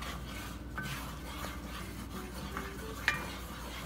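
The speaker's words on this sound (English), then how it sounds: "So I'm gonna stir that in really" A spoon works coconut flour into melted butter and garlic in a pan, a steady soft scraping over a faint sizzle, close and quiet, with one sharper clink near the end.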